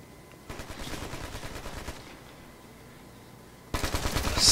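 Automatic gunfire in the video game Ghost Recon Future Soldier multiplayer, two bursts of rapid rattling shots separated by a quieter pause, fairly faint under the game's ambience.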